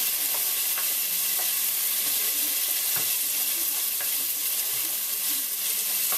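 Ginger and garlic paste sizzles and fries steadily in a hot pan while a utensil stirs and scrapes at irregular intervals, close and continuous with no talking.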